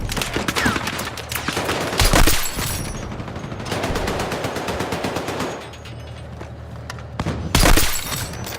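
Machine gun fire in the Battlefield 6 game: loud, rapid bursts of automatic gunfire with sharp cracks and a few heavier blasts, ebbing and swelling across the whole stretch amid battlefield noise.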